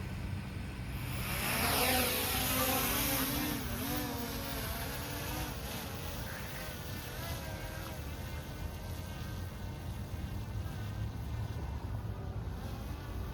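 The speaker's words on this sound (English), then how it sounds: "The motors are started." Motors of a Skyrover X1 Mini drone spin up and run with a steady insect-like whine that rises in pitch as it throttles up. The whine then settles into a continuous hum, moderately faint, under outdoor ambience.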